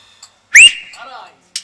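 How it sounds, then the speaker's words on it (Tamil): A person whistles sharply to call someone, one loud rising whistle followed by a wavering tail, close and clear, with brief faint sounds around it. "விசில் அடிச்சாதான் வராரு."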